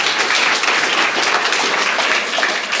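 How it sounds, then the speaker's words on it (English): Loud, dense audience applause at a Startup Weekend pitch night in Perth, sustained evenly throughout with no talk over it. "Big round of applause for Todd."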